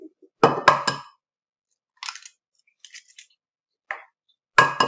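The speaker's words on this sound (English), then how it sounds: "Crack them in a bowl and then whisk them with a fork to break them up and combine them" Eggs are cracked into a bowl and whisked with a fork: a cluster of sharp taps and clinks up close, then scattered quiet scrapes and ticks, and another burst of clinking at the end.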